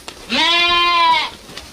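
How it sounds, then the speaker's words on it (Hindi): A single sheep bleats close by, one clear, sustained, wavering call lasting about a second against a quiet background. "अब मोहन उन भेड़ों को उसे मैदान में ले जाता है"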